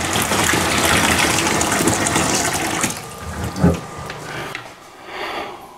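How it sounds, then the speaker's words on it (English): Water gushes steadily from a faucet while bleach is flushed from household well water lines after shock chlorination, loud and close, then the flow is cut back to a softer trickle with a brief splash. "And again, you want to collect the water and throw it out."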